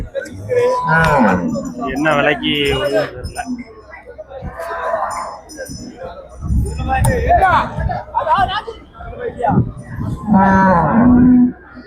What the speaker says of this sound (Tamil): சந்தைக்கு வந்து மாடுகளை இன்றைக்கி பார்ப்போம்